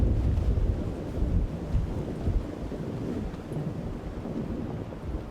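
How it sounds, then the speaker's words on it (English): Steady wind gusting across an outdoor disc golf course during a final-round tournament, a continuous low roar with buffeting rumbles against the microphone, no talking. "Seemed like the wind picked up for me too."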